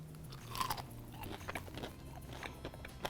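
Bites into a crunchy Cajun-seasoned boneless chicken wing from Wingstop, giving a few close, crisp crunches followed by softer chewing, with no talking.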